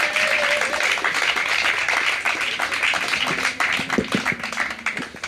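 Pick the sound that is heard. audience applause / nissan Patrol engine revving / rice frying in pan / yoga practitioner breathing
audience applause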